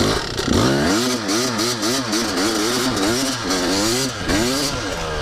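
Yamaha YZ250 two-stroke dirt bike revving hard during a burnout, a loud, close, buzzing engine rising and falling in rapid repeated throttle blips with no talk.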